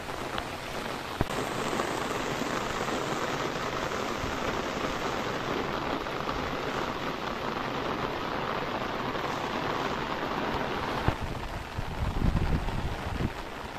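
Heavy monsoon rain in the Konkan countryside falls as a continuous, dense hiss of drops on surfaces, close and steady, with a couple of sharp knocks and some wind buffeting on the microphone near the end.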